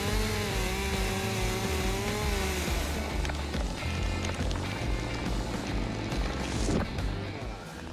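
Husqvarna 572 XP chainsaw with a 70.6 cc engine cutting logs in snowy woods, loud and close, the engine revving up and holding a steady high whine as it bites through the wood, with harsher rasping toward the end.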